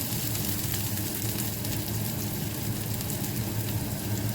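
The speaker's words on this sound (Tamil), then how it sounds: "வெங்காயம் வதங்கி வர காணும்" Onions sauté over medium heat in a pan for Jaffna-style egg tomato rice, giving a steady, dense sizzle with no pauses and no voices.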